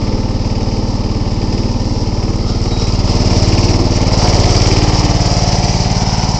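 A John Deere 265 lawn tractor runs steadily after a cold start on a very cold day, its small engine droning loud and close with a constant throbbing idle.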